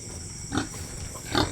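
Two short, low pig grunts a moment apart, heard close against a steady hum of background noise.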